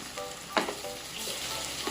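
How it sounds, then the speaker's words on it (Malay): Okra sambal frying in a hot pan with egg just added, sizzling steadily throughout while a utensil scrapes and stirs in brief knocks, close and moderately loud with no voices. "Kacau. Kita masuk telur ya."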